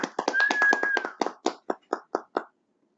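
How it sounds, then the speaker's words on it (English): Hands clap in congratulation, a quick burst of about a dozen sharp claps that thin out and stop, with a brief whistle-like tone over the first second. "Clap it up for that. Clap it up."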